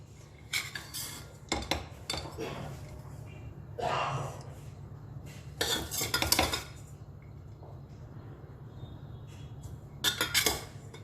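Mashed horse gram lentils are spooned from a pan into a bowl, giving a few scattered metallic scrapes and clinks of spoon against cookware, fairly quiet and close, with brief soft talk in the gaps.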